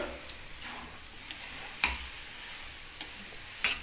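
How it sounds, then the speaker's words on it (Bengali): Semolina is stirred in ghee in a kadai. A soft, quiet sizzle runs underneath, broken by a few sharp taps and scrapes of the spoon against the pan, with no voices. "এবার আমি একটু নাড়িয়ে চাড়িয়ে দেখছি"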